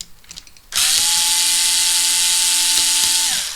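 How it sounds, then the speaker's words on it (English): A cordless drill removing screws from a Tamiya Lunchbox RC car whines loudly and steadily for about three seconds after a quiet start, then winds down as it stops, close up. "Got to use my drill here."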